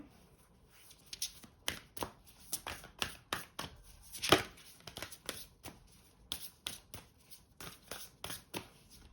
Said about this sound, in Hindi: अब मैं कुछ और कार्ड्स निकालती हूँ आपके लिए